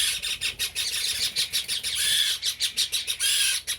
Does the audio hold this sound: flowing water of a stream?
no